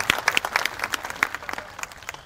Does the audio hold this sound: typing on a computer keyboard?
no